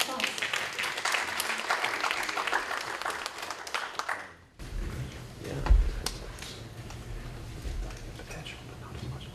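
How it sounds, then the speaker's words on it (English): A conference audience at an international panel applauds a speaker with a burst of clapping that stops abruptly, followed by soft room noise and a thump. "Give Thuy a round of applause."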